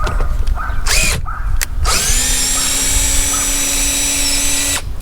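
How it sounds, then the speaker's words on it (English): A power drill backs out a Phillips head trim screw on a Box Chevy LS Brougham during quarter vinyl top removal: a few short whirring bursts, then one steady, loud, close motor whine lasting several seconds before stopping. "First step is removing this Phillips head screw on both sides to remove this trim here."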